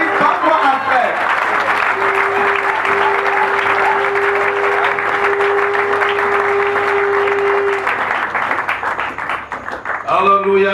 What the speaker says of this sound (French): as you put your hands together? S'acclamer. Let's welcome Evangelist Bakwa Alfred